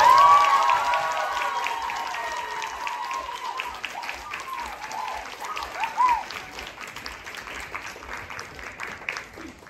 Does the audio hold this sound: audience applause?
yes